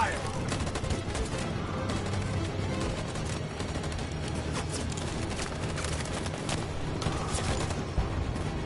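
Dense volleys of gunfire in Detroit Become Human, rapid repeated shots filling the whole stretch loudly and continuously, with brief voices under the barrage.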